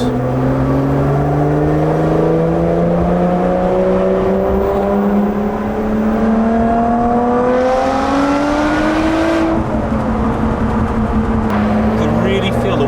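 A Lotus Evora 400 sports car engine revs up in a long, rising drone heard from inside the car, loud and steady, with a gear change near the end and then a renewed climb.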